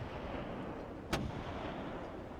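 A single sharp gunshot in the video game Dagon cracks once midway through, standing out from a steady, noisy background hum.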